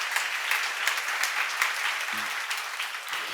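A seminar audience claps steadily in a room, a dense, moderately faint patter of many hands sustained throughout.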